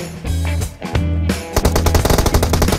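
Automatic weapon fire from the mobile battle royale game PUBG Mobile: after a stretch of steady tonal game sound, a rapid run of sharp, close, loud shots rattles on with no talk.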